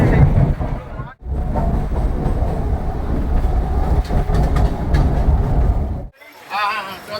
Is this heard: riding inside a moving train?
yes